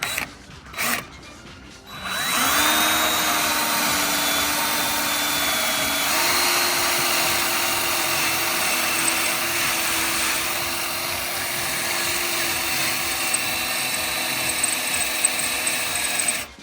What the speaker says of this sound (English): let's go ahead and drill them out.